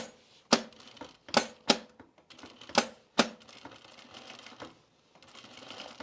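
Home sewing machine stitching a decorative flourish on a jean pocket, running in several short bursts with sharp starts and quiet pauses between them, close and clear, with no talking.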